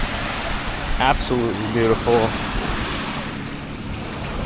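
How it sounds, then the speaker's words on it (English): Surf rolls onto the beach at Nachi Cocom in Cozumel, a steady wash of waves with wind buffeting the microphone while a voice speaks briefly over it. "here's a closer look at the beach at Nachi Cocom"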